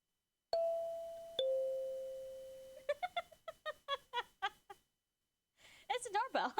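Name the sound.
doorbell ding-dong sound effect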